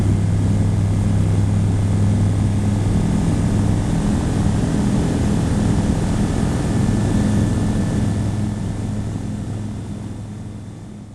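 A light propeller aircraft rolls down a long runway for takeoff, its engine a loud, steady droning hum with a low tonal buzz that holds for most of the stretch before slowly easing away.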